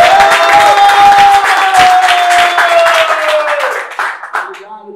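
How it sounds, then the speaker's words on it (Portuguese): Crowd clapping and cheering after a Brazilian rap battle final, loud and dense with voices shouting over it and a tonal whistle or horn line, tapering off into scattered claps at the end. "Aí família, palmas pra essa batalha"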